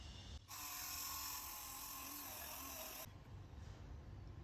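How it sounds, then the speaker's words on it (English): A power drill with a spade bit whines steadily as it bores through wood for a few seconds, then cuts off, leaving faint room noise. "So we're just drilling holes with our spade bit"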